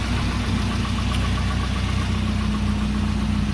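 A 1988 Volvo 240 DL fitted with a custom exhaust idles steadily and close by, with a deep, even low rumble and a faint knocking pulse running throughout.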